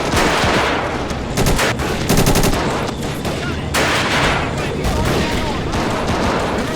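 Dense, continuous gunfire fills a battle in a Second Italo-Ethiopian War 1935 interwar mod video game, with rapid machine-gun bursts and overlapping rifle shots rattling without pause at close range and staying loud throughout.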